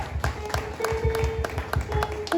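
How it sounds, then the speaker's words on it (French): Scattered hand clapping from a small crowd, a steady patter of claps over a faint background tone, fairly quiet and brief. "Applaudissez, mesdames, messieurs"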